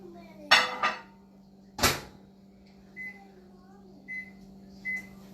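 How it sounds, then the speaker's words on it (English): A kitchen microwave oven is started for milk: the door clunks shut and a few short keypad beeps follow, with a low steady hum running underneath. "I'm going to warm it up in the microwave."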